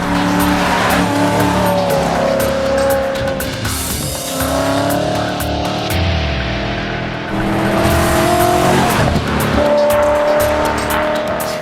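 A BMW M3 Frozen Edition on a soaking wet raceway, engine revving and shifting loudly close by as the tyres squeal and skid for grip, a continuous roar with pitch rising and dropping.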